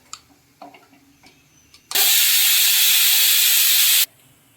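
A kitchen pressure cooker releases one loud, continuous burst of hissing steam lasting about two seconds, preceded by a few faint clicks and followed by quiet.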